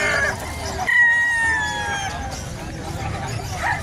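Turkey calls near the microphone at a pet market: a drawn-out gobbling cry, then scattered clucks, with voices talking nearby in the background.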